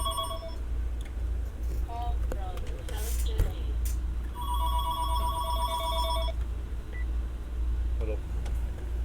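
Phone ringing in a moving car, repeated electronic ring bursts over a steady low road rumble, with someone talking at times.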